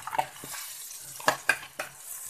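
Two potatoes and half a kilo of cauliflower going into frying keema with tomatoes in a pot, heard as a few quick scrapes and clinks over a faint sizzle, close and short, with no voices.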